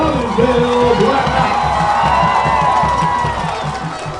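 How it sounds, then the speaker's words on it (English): A large crowd at a night high school varsity football game roars and cheers steadily as the Robbinsville Black Knights run onto the field, loud and sustained, with a brief horn-like tone near the start. "And the crowd erupts."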